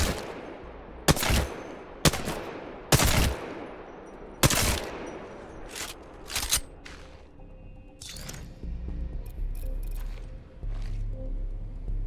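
Heavy, spaced single weapon shots in Apex Legends ring out loud and close, about six sharp blasts in the first seven seconds, followed by quieter clattering and a lower rumbling hum.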